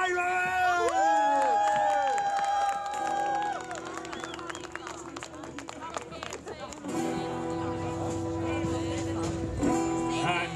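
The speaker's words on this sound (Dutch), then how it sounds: "Applaus voor pirates!" A festival crowd at the Elf Fantasy Fair in Arcen cheers and claps to welcome a pirate band, with shouting voices over the clapping and music swelling in partway through.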